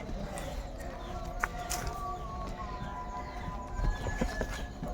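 Sahiwal breed bull walking on a farm in Dinajpur, with steady clip-clop hoofbeats close by over a busy outdoor background and faint livestock calls.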